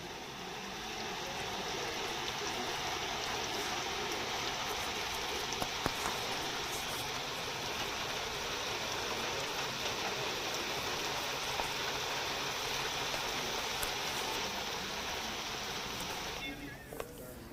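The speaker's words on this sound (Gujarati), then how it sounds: "ઉપરવાસમાં ભારે વરસાદના કારણે નદી હાલ તો બે કાંઠે વહી રહી છે" Heavy rain pours in a broad, unbroken hiss alongside a river in flood running bank to bank, loud and steady for the whole stretch before cutting off abruptly near the end.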